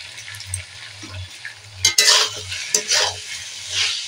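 Spiced mutton for kosha mangsho sizzles in a pan while a utensil stirs and scrapes through it in irregular bursts, the frying loud and close with a low hum beneath.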